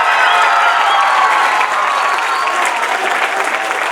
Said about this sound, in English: One more round of applause for all the students at the Port St. Lucie Program.